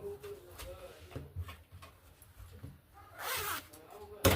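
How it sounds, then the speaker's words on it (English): A zipper is drawn along an Ankara fabric tote bag trimmed with leather, giving a soft rasping pull that swells into a louder burst near the end, close to the mic, with faint room sounds around it. "So now we are going to zip it"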